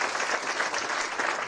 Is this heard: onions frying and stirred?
no